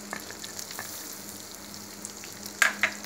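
Chopped garlic fries in hot oil and melted fat in a pan, giving a soft, steady sizzle with faint crackles and a couple of louder stirring scrapes near the end, heard alone without talk.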